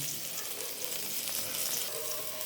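Blanched taro stolons frying in a hot pan, giving a dense, even hiss that holds steady with no pauses and no talk.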